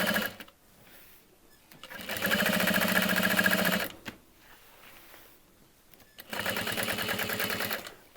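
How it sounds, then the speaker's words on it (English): A sewing machine runs a straight seam down the side of a handbag at a long stitch length of about 5, in two steady bursts of close, even whirring separated by quiet pauses. "using about a stitch length of 5, I'm just going to start at one end and sew down the side"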